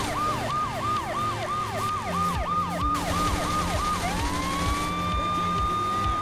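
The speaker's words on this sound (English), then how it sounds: "I have sirens on." A police siren wails in Saints Row The Third, cycling in fast, even yelps before sliding into a long, steady high wail, loud and close over rumbling vehicle noise and game music.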